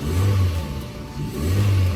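A 1.5-litre Toyota Soluna Vios automatic car engine revs up loudly, dips briefly, then climbs again in a second surge, close and continuous with no talking.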